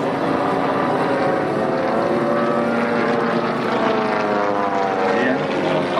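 A propeller airplane drones loudly and continuously at the La Ferté-Alais air show, its engine hum steady and close throughout.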